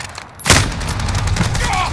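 Gunfire in a Call of Duty Modern Warfare shoot-house match: a loud burst of shots erupts amid continuous dense game noise, with players' voices faintly mixed in.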